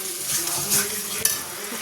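A spice paste with ground cashew is stir-fried with fried potatoes in a pan, giving a continuous close sizzle broken by a couple of scraping spatula strokes, with no talking.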